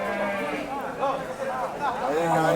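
Sheep bleat at a weekly sheep and goat market in Kadiri, with several wavering, drawn-out calls overlapping close by against a constant crowded background murmur.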